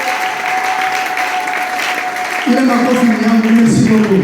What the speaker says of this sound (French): Oh, ces acclamations sont à moi, merci.